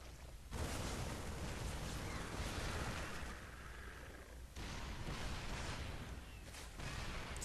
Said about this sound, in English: siege tanks now in range of this poor spine crawler, going down almost immediately